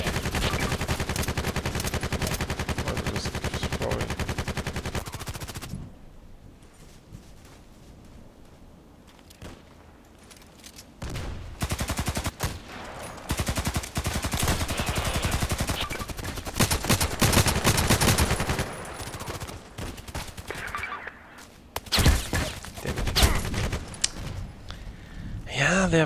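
Gunfire in the online shooter Contract Wars on the Site and Old Sawmill maps, with dense bursts of automatic fire for several seconds, a quieter lull, then renewed shooting and footsteps; someone talks over parts of it.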